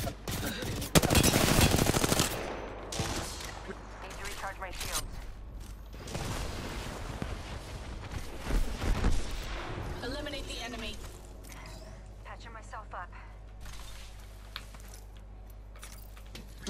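Gunfire in a Halo video game, bursts of rapid automatic shots loudest in the opening seconds, then sporadic shots and mechanical clatter trailing off beneath a steady background hum.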